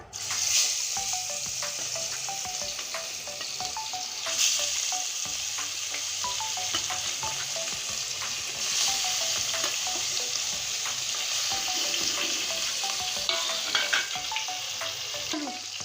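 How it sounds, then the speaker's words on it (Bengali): Fish rubbed with salt and turmeric fry in hot oil in a wok, giving a constant close sizzle with scattered crackles and occasional utensil taps. "দেখুন মাছগুলো কত সুন্দর ভাজতে শুরু করেছে"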